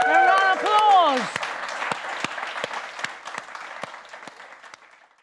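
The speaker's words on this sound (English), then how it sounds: "thank you also to our fantastic live studio audience. A round of applause." A live studio audience at an Edinburgh festival show breaks into a round of applause, clapping loud and full at first, then thinning and fading out. A voice speaks over the start.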